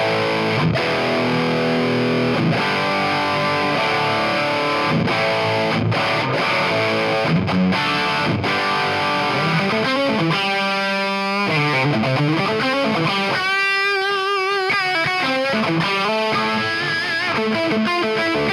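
Loud electric guitar through the cranked gain channel of a 15-watt amp, chugging distorted chords and sustained bends with ringing feedback-like notes, no talking.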